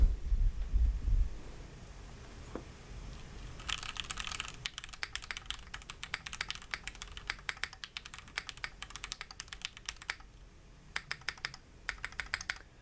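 Close-up clacky keystrokes on a Keychron Q6 mechanical keyboard patter rapidly in bursts, a steady stream of sharp clicks with brief pauses, no talking.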